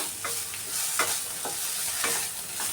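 Maharashtrian-style fenugreek leaf bhaji sizzles in oil in a pan as it is stir-fried, with rhythmic scraping stirring strokes about every half second over a constant crackle.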